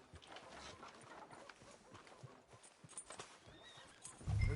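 Horse hooves clip-clopping in a video game, a steady rhythmic clatter of footfalls at moderate loudness with a whinny among them, with no talking.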